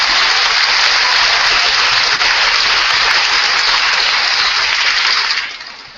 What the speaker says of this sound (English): give your families and those clubs a round of applause right now